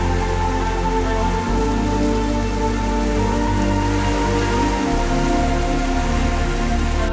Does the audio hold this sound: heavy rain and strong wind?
yes